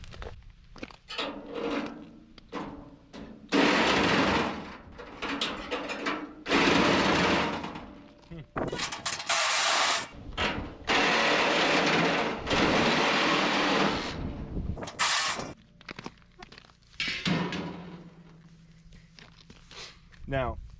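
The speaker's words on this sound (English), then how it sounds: "the first thing I'm going to do here is cut away some of this little metal cage so that we can get in and out of it" Metal cage on a tote being cut away with a power tool, bursts of loud harsh grinding and cutting noise alternating with pauses, a voice talking in between.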